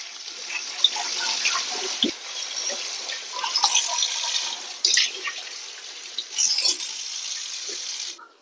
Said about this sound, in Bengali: এই এখন আমি পাতাগুলো ভালো করে ধুয়ে